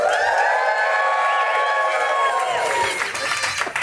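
An audience cheers loudly and steadily, with voices and whoops blending into a dense crowd roar that starts to break up toward the end.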